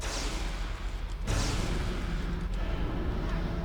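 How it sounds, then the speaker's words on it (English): A door blows up in the video game Anarchy Online as a loud, rumbling blast surges in over dense, continuous battle noise, followed by a fainter second thump. "Oh, there was an explosion at the door that we didn't see."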